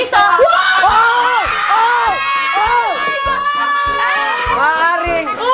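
Excited teenage housemates in a reality-show house scream and yell together in a loud burst of overlapping high-pitched shrieks and shouts, close by and continuous for several seconds.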